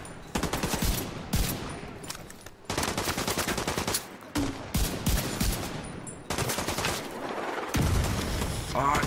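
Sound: mortar fire in the video game The Division 2

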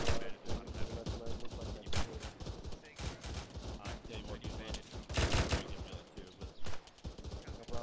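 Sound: gunfire from soldiers shooting rounds

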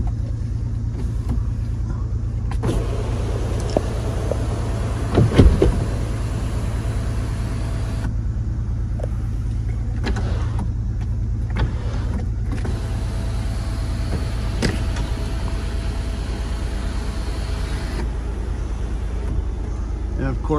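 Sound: Toyota Tundra power rear window moving up and down

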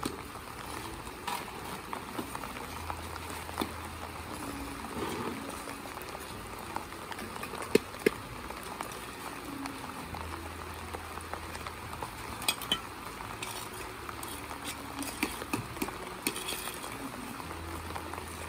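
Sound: heavy rain falling on a construction site

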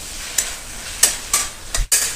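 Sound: stirring ridge gourd with spices in a pan

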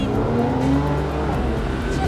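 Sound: car braking to a stop

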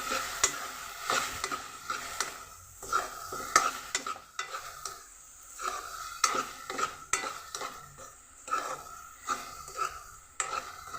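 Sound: halwa frying in ghee

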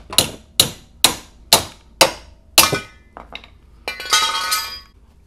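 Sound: hammer tapping subframe tubes out

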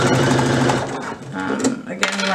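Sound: sewing machine stitching a fabric belt

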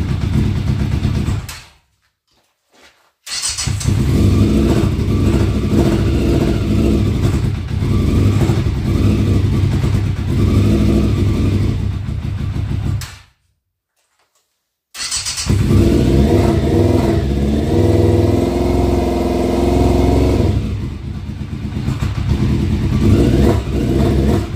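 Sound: Yamaha Fazer motorcycle engine warming up and revving

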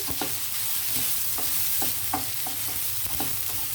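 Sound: onions frying and being stirred in a pan

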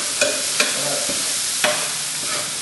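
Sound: cooking plantains in a pot

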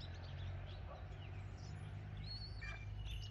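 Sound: red-tailed hawk calling

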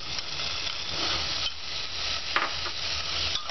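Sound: stirring chopped potatoes with green chili and almonds in pan

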